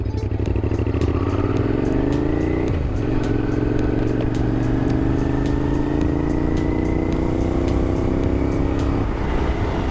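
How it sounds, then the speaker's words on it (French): A Suzuki SV 650 motorcycle engine runs loud and close, its V-twin drone holding steady with gear-change dips as the bike pulls away and rides on, alone without talk. "se mettre directement aux commandes de la moto, de la machine, et on va aller se faire un petit tour"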